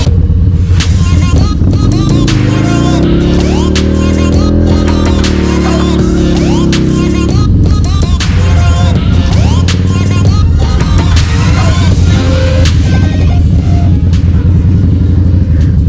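A Harley Dyna motorcycle revs hard while spinning standing donuts, a loud, close engine roar that climbs and holds in a long sustained swell, then drops back to a rough, pulsing idle-rev pattern.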